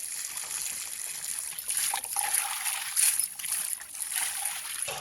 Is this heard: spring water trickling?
yes